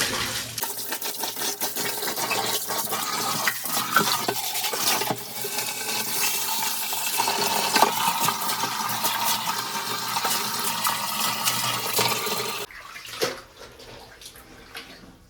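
A motor pumps water while a dirty water tank is being washed out, giving a loud, steady, splashing rush that runs without a break and then cuts off abruptly near the end, leaving quieter drips and stirring.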